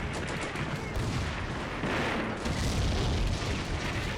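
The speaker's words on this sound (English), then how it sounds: "very heavy bombardment there. I think they're using both of their artillery to shell us" Artillery bombardment in the wargame Combat Mission: Beyond Overlord, with shells falling on a Canadian position: a steady rumbling barrage of booms and crackling fire that swells midway and keeps rolling at a moderate, somewhat distant level.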